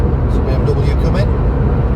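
A Mercedes car drives along a motorway at about 70 mph, its steady road and engine rumble continuous under a speaking voice, with no distinct pass-by swell.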